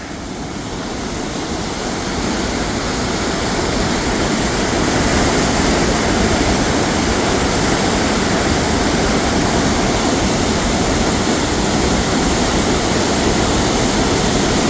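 Water rushes over the spillway at Clearwater Lake in a loud, continuous roar that builds slightly at the start and then holds steady and close throughout, with no voices.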